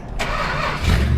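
An old junkyard Chrysler car's engine cranks briefly and catches, then settles into a loud, rough, low rumble close by.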